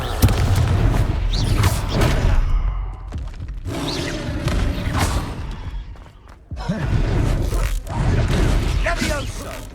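The Confringo explosion spell in the Hogwarts Legacy game goes off as repeated booming thuds and crashes amid combat effects, with voices shouting over the action.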